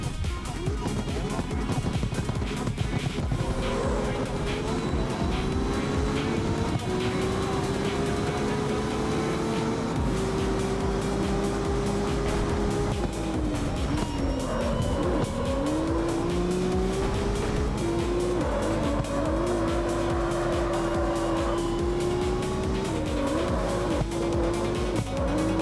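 Racing cars in CarX Street, engines revving steadily with rising and falling pitch as gears shift, tires squealing during hard acceleration, a loud continuous game mix with no pauses.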